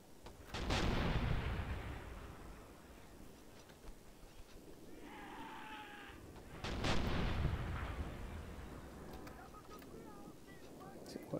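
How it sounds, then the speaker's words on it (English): Rapid artillery volleys boom in a WW2 tactical battle in the video game Graviteam Tactics. Two heavy blasts ring out several seconds apart, each with a long rumbling decay, and faint crackling and distant activity fill the gaps. "They are rapid firing. Volley after volley."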